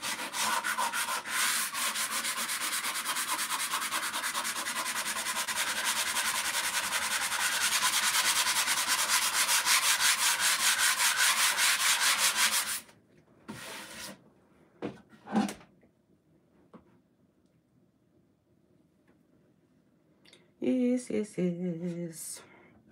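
Sanding an antique wooden dresser coated in milk paint, a loud, steady abrasive rasp for several seconds that cuts off abruptly, followed by scattered knocks and a short final burst of scraping.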